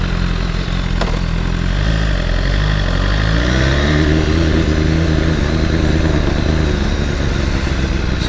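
BMW S1000RR sport motorcycle, a loud close engine rising in pitch through several revs and gear changes as it rides away, under steady wind noise.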